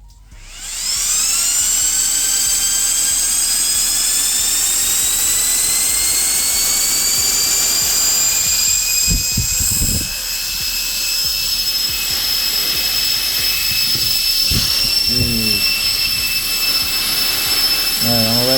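High-speed electric fans rated at 32,000 RPM spin up to a loud, piercing whine that rises in pitch and then holds steady throughout. A few brief handling thumps and short voice sounds come through under the roar.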